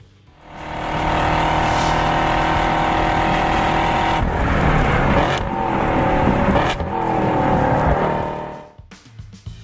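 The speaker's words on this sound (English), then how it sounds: "It's a full cat-back system, includes the X-pipe, the polished black tips, and of course, the wonderfully sounding Corsa mufflers." A 6th-gen Chevrolet Camaro (2016-2024) with a Corsa cat-back exhaust, X-pipe and polished black tips roars loudly, revving and accelerating close by with deep rumbling throughout and brief dips in intensity.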